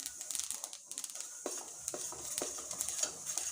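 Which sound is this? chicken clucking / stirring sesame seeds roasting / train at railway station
stirring sesame seeds roasting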